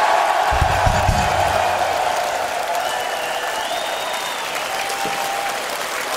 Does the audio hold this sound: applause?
yes